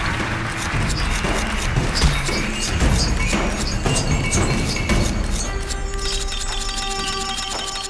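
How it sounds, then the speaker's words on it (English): Fireworks bursting in the PS3 video game Puppeteer, a dense, loud run of crackling pops and crashes over game music, thinning into sustained tones near the end. "Oh, I love the sound of fireworks, don't you?"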